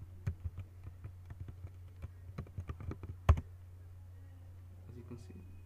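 Fast, irregular clicks of a computer keyboard entering a username and password, close and clear over a low steady hum, ending in one sharper keystroke or click before quieter background.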